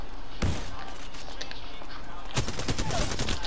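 Gunfire in a shooter video game, two loud bursts of rapid shots, one short near the start and a longer rattling fusillade later, close and sharp over a steady background.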